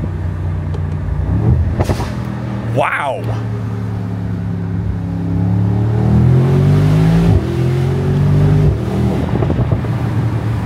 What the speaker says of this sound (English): Got a nice rumble from that 4-liter V8 and some exhaust burbles